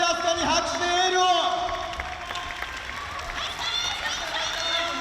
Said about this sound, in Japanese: さあ町飛鳥に拍手でエールを